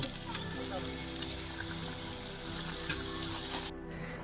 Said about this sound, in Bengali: এই তো আমাদের মাংস ছাড়া হয়ে গেল